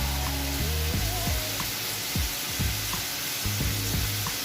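Beef sizzles steadily in a hot pan, a constant frying hiss with occasional stirring knocks and clinks against the pan.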